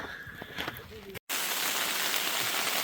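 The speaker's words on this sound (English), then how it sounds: "But then I was like, it's raining. But that's actually not rain. That is sleet coming down." Sleet patters densely on a tent during a snowstorm, a steady, close rattling hiss; faint voices come before a brief break, then the pelting continues alone.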